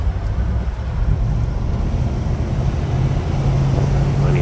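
A 1975 Pontiac Grand Ville Brougham convertible with its 455 V8 pulls away in traffic, giving a deep, continuous low engine rumble that holds steady and close, mixed with road and wind noise.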